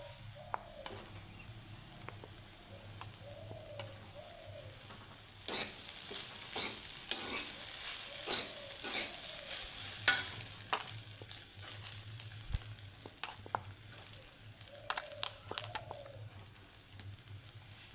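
Cooked rice for gondhoraj lime soya rice stirred and tossed in a frying pan, with repeated scraping strokes over a steady sizzle and occasional clicks of the spoon.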